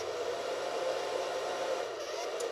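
A heat tool blows a steady, fairly quiet stream of air across craft artwork made with foam stamps, giving a continuous, even whoosh with a constant hum and no talking.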